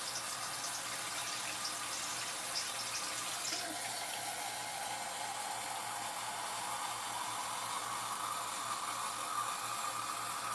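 Water poured into a soup pot for homemade beef vegetable soup, a steady close splashing and trickling stream that runs without pause, with no talking.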